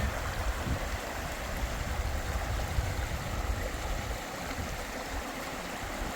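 Stream water rushes steadily throughout as a hiker wades through an unbridged river crossing on the Appalachian Trail near Monson, with a close, continuous broadband wash and low churning splashes, no talk.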